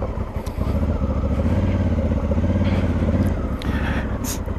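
A Honda Africa Twin motorcycle rides figure eights on gravel, its engine droning loudly and steadily with a throttle swell and tire crunch, fading slightly at the end.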